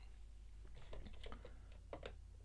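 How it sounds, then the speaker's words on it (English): Computer keyboard typing, a short burst of soft, quiet key clicks in an irregular rhythm over a low background hum. "I can again type in anything I like under aim, outcomes, and so forth."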